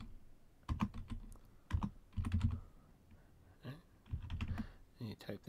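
Keys clacking on an Apple //e computer keyboard as a name is entered in a text adventure game, several quick bursts of typing with short pauses between, close and fairly quiet.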